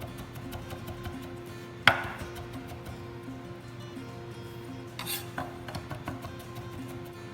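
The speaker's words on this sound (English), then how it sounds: "I like to crush the garlic with the blade of my knife, and then just cut along with it" A knife crushes and chops garlic on a cutting board in a quiet kitchen, with one sharp thud followed later by a short run of lighter cutting taps over a low background hum.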